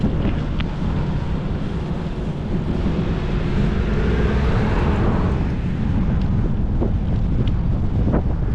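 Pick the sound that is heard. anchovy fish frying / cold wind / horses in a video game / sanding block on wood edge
cold wind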